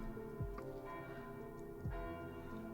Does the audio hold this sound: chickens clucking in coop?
no